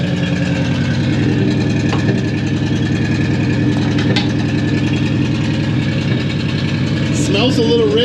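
Engine of a 1988 Mazda idling through a Spintech muffler, a loud, steady, close burbling exhaust drone that runs throughout, slightly uneven as if misfiring, with a voice briefly near the end.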